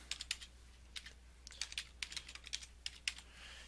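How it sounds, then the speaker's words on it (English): Quick bursts of keystrokes on a computer keyboard as a password is typed, close and fairly quiet, in short uneven clusters with brief pauses and no talking. "Put in a password that you're going to remember."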